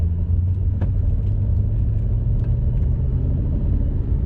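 An Audi R8 engine rumbles with a steady deep drone as the car accelerates up into third gear on a drift course, heard from inside the cabin.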